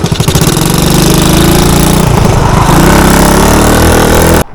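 Small engine of an ATC70 three-wheeler running warmed up in neutral, a loud, steady, close putter with rapid chugging pulses that swell slightly, then cut off abruptly at the end.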